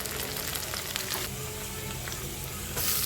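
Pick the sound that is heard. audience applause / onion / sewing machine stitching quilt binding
onion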